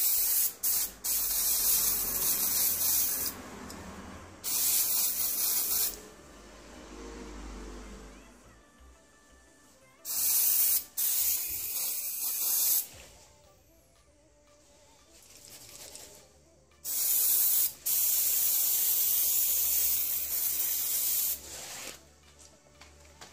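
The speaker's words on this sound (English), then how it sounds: "Okay, time to spray second time." An aerosol cleaner sprays onto a car mass airflow sensor in several hissing bursts of a few seconds each, separated by quieter pauses with faint handling noises nearby.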